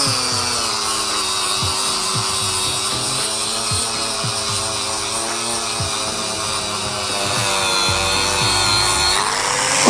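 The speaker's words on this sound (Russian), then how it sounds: "Для этого мы используем вот такой инструмент – болгарка с грубым, опять же," An angle grinder fitted with a coarse 80-grit abrasive disc sanding wood, a continuous loud high whine with scraping, rubbing bursts as the disc works the surface, close and alone.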